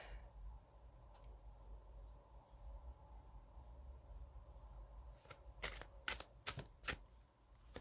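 Tarot cards are shuffled close by in a quick burst of crisp riffling snaps near the end, after a stretch of quiet room hiss.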